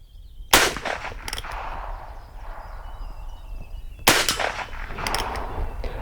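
Shots from a Heritage Rough Rider 16-inch .22LR revolver on an outdoor shooting range, two sharp cracks a few seconds apart, each trailed by a short echo over quiet outdoor background.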